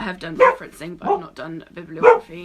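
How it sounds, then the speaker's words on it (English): A dog barks a few times in quick bursts close by, its yelps mixed in under a person speaking steadily indoors. "Excuse my dog."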